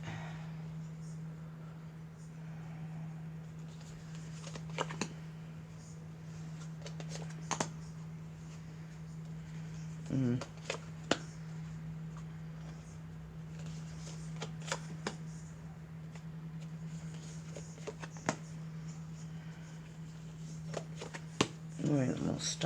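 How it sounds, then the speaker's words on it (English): Soft riffling and slapping of tarot cards being shuffled in short bursts over a steady low hum, with no talking. "Something's told me I need to shuffle again"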